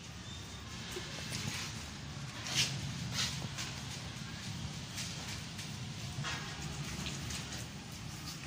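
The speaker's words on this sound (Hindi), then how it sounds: "बारिश इतनी ज्यादा हो रही है" Steady heavy rain pours down, a dense continuous hiss with occasional louder drips and splashes standing out close by.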